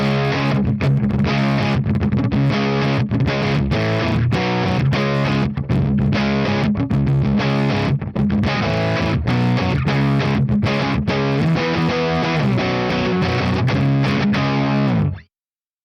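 An electric guitar played through its bridge humbucker with heavy distortion and no reverb or delay gives a loud, dense rock tone of chugging, rhythmic chords that cut off abruptly at the end.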